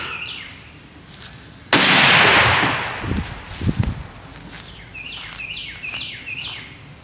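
A muzzleloader fires a 300 grain Pittman Aeromax bullet outdoors: one sharp, loud blast with a long fading roar, followed by chirping birds.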